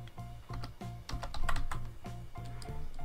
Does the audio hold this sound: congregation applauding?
no